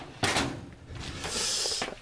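A kitchen drawer holding fruit slides open with a sharp bump, then rolls along its runners in a longer, steady scrape, close by and with no one talking.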